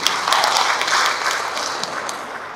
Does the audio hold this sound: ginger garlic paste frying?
no